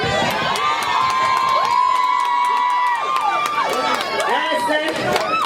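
A live concert crowd cheers, whoops and shouts in a loud, dense, continuous roar that carries through the whole stretch.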